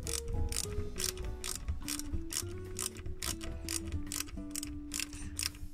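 A small screw is driven metal on metal into a door hinge on a KITT model car from K2000, giving steady rapid ratcheting clicks from a close screwdriver, rhythmic and continuous.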